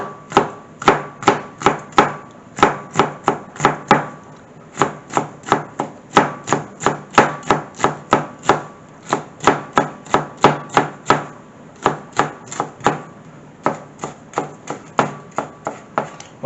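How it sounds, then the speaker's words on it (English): A knife chops seasonings on a cutting board in quick, sharp, evenly spaced knocks, dozens of close strikes in steady bursts with short pauses between runs. "now we have all our seasonings cut up"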